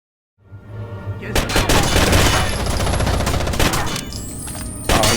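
Sustained automatic gunfire in the shooter game Rainbow Six: Vegas, dense overlapping bursts from several weapons filling the clip loudly and continuously after a brief silent start, with no talking.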